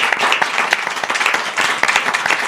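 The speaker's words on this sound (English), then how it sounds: "please join me in a big round of applause for all of our candidates" An audience at a city council candidate forum gives sustained applause, dense steady clapping from many hands filling the room at close range.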